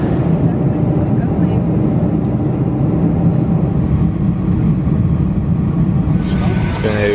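Steady, loud low-frequency engine and air rumble fills the cabin of a two-floor (double-decker) airliner, continuous throughout, with a brief higher clatter near the end and faint voices in the background.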